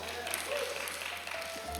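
A church congregation applauding at a live service, a dense, steady wash of clapping that carries on through the short stretch.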